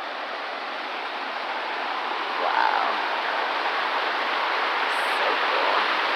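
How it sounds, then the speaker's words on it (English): Steady broadband rush of wind and flowing water beside a stream at a historic working sawmill, constant and close, with a brief voiced exclamation partway through. "I apologize for the wind noise and the water noise"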